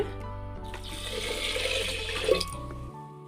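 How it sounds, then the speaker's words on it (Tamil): Water poured into a pot of rice and moong dal for ven pongal, a steady splashing fill that swells and then tapers off, with a faint tonal hum in the background. "இப்போ இதெல்லாம் தேவையான அளவு தண்ணி ஊற்றிக்கலாம்"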